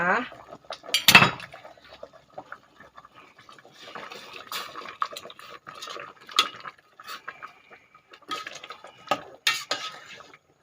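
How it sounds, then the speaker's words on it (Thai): Pounded chili paste going into a pot of fresh northern-style bamboo shoot curry, with a sharp clank of a utensil against the pot followed by scattered scraping, tapping and stirring clatter, fairly quiet and close. "จากนั้นเราจะเอาน้ำพริกที่เราโขลกไว้ใส่ลงไปเลยนะคะ"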